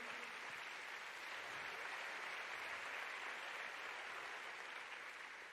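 A church congregation applauds the Lord during a bilingual Spanish-Portuguese service, a dense, even wash of clapping sustained loudly and alone throughout.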